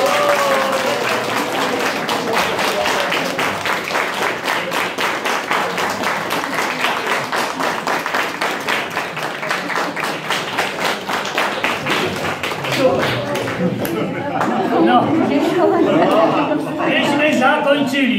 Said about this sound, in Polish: I więc teraz wszyscy dadzą wam brawa pokaźne.